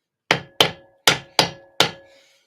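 Hammer striking a leather stamp to press butterfly shapes into a leather belt: five sharp, close, loud whacks with short ringing decays, spaced roughly half a second apart, with no talking.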